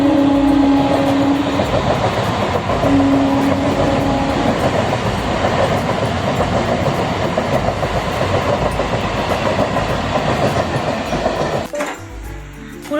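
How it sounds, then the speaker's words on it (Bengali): A local train passes close by in the morning, producing a loud continuous rumble with rhythmic clickety-clack of wheels on rails that fades slightly at the end. "এটা কোন লোকাল যাচ্ছে দেখ, সকাল সকাল দেখো ট্রেন যাচ্ছে।"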